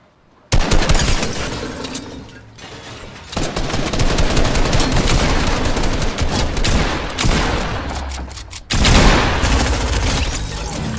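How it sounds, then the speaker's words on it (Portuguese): Dense, continuous bursts of rapid gunfire and explosions in the video game Fortnite fill the whole stretch, loud and close, with brief shifts in intensity. "Onde é que tá vindo os tiros que eu ainda não entendi?"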